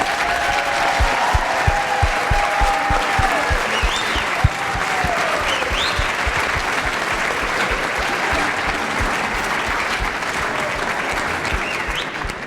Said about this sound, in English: let's give another big round of applause for them